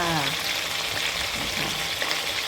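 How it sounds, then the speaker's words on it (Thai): Rice and pla som, fermented fish, frying in hot oil, a dense, steady sizzle close by with a faint voice fading at the start. "นี่ทอดทอดข้าวปลาส้มจ้า"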